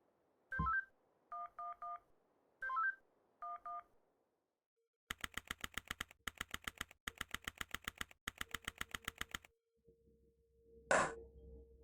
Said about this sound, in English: you at least can make one more phone call.